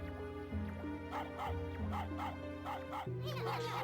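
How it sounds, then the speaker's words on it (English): A cartoon puppy barks in the Okamiden video game, a quick run of small yipping barks in an even rhythm over a looping game music track. "Barking's not gonna help you."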